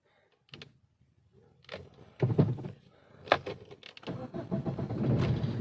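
A car's starter cranks the engine after a few close clicks and thumps, then a steady rumble builds at the end. The car has a wiring problem and a check engine light that stays lit. No one talks.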